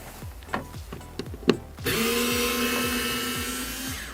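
Power tool driving out the window motor screws inside the rear door of a Ford Fiesta Mk7 with a Torx 25 bit, a few short clicks and taps first, then a steady whirring drive run lasting a couple of seconds, close up.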